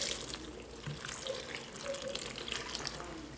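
Liquid is poured into a bowl to make pudding, a soft, close splashing trickle that runs steadily for a few seconds at low volume.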